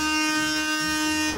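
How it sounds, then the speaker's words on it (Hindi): A loud, steady electronic airplane horn blares continuously with a harsh, buzzing tone for over a second, then cuts off abruptly. "एरोप्लेन का हॉर्न कुछ ऐसा होता है"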